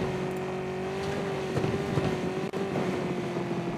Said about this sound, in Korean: 내 앞에 오토바이